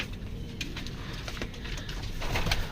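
A pigeon coos softly and repeatedly, low rounded calls close by, with faint rustling and no speech over it.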